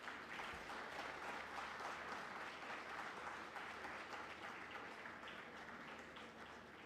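An audience claps steadily at a university convocation ceremony, a dense, even wash of many hands that carries on without pause, fairly faint and distant.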